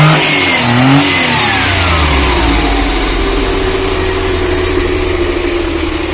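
Maruti 800 car engine fitted with an HHO fuel cell revving, rpm climbing and then holding at a steady high drone, loud and close with no talk.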